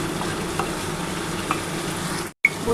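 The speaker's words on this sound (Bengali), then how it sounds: "আর খুব ভালো করে মশলাটা কষাতে হবে" Spice masala for chicken kosha stir-fried in a pan, a steady close sizzle with a few soft scraping stirs, then a brief cut to silence before the frying resumes, with no speech.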